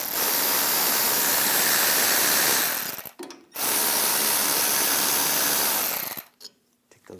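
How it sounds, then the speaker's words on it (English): A power ratchet or impact tool spins out rear brake caliper bolts with a 12mm socket on a 2015-2022 Chevrolet Colorado: two loud, close, sustained buzzing runs of about three seconds each, separated by a brief gap. "Now we'll take these two caliper bolts out. Use a 12mm socket."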